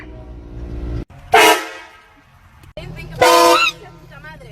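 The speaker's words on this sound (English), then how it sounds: "Train horn." A train horn sounds in two loud, sustained blasts, each stopping abruptly, with quieter voices and background noise heard between the blasts.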